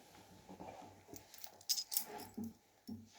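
Keys, loose coins and a ring jangle together in a hand, producing soft, irregular metallic clinks and rattles in short bursts, fairly close and quiet, with no talking.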